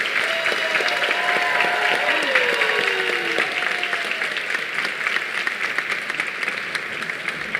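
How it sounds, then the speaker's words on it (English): Sustained audience applause at the 2022 Golden Herald Awards ceremony, dense steady clapping from a large crowd over several seconds, with a voice briefly audible over it near the start. "please, another round of applause."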